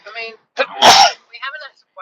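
A single loud sneeze bursts out between bits of conversation, with people talking just before and after it.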